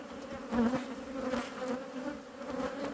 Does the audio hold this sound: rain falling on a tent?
no